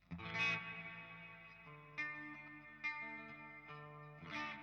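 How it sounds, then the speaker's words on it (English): Electric guitar chords ring through a Walrus Audio MELEE fuzz and reverb pedal with the reverb engaged, several struck chords blooming into long shimmering tails with chorus-like wash, fairly quiet and alone. "I'm engaging the reverb."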